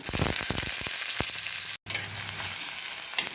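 Chopped onion hits hot oil in a wok already crackling with mustard seeds and cumin, giving a loud, steady sizzle and fry with brief stirring scrapes, broken by one short silent gap.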